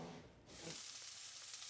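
A burger patty sears in a hot pan, giving a faint but steady hiss and crackle of sizzling fat that suddenly brightens and holds as the meat settles onto the surface.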